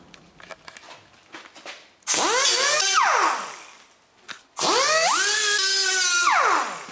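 Two loud bursts of a high-pitched drill whirring, each spinning up with rising pitch and then winding down, separated by a short quiet gap.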